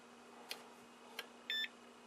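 An ESR tester gives two faint short chirps, then a steady electronic beep lasting under a second as its probes are connected to a leaky 40 microfarad, 150 volt capacitor during restoration of a Hickok 121 Cardmatic tube tester.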